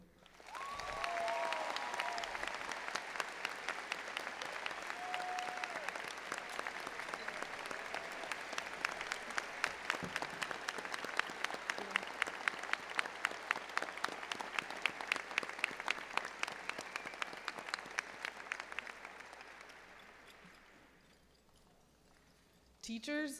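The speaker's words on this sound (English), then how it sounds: "Seniors and audience members, please join me in a round of applause for the greatest of all time" Large graduation crowd applauding a retiring high school principal, sustained loud clapping with sharp rhythmic claps near the microphone, tapering off toward the end.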